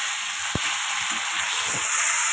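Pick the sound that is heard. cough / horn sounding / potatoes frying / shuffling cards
potatoes frying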